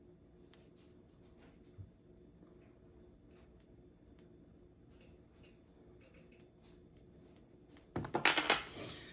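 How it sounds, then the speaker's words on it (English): A small precious coin struck to ring for a coin-testing app: a quiet room, then a brief bright metallic ping followed by a short cluster of clinks near the end. "you want to be quiet so it can hear the ping"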